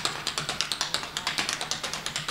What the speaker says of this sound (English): And then later, the four-sounded walking step,